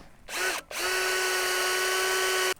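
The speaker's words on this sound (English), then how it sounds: "then you can just screw it down through the top to make everything solid." A power drill drives screws down through a carrier board on a Granberg Mk IV Alaskan chainsaw mill, running in two close bursts: a short whir, a brief stop, then a long steady high-pitched spin that cuts off abruptly.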